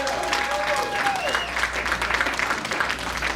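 A comedy club crowd claps and cheers loudly and continuously for a comedian, with whoops and shouts rising over the applause.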